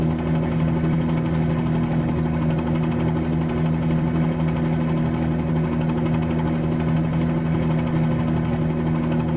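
Steady piston engine and rotor drone of a Bell 47-G2 helicopter in Microsoft Flight Simulator during a slow descent, loud, constant and unbroken, with no talking.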